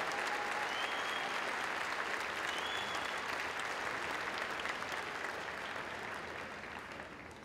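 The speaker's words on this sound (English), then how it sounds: "let's have a huge round of applause for the class of 2019 valedictorians and salutatorians" Large graduation audience at a Henry Ford II High School commencement applauds the class of 2019 valedictorians and salutatorians, a dense steady roar of clapping that fills the hall and tapers slightly toward the end.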